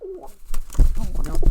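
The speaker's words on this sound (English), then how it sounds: "Sorry, that's my pigeon." A pet pigeon coos close by, a low throaty burble at the start and again through the rest of the short moment.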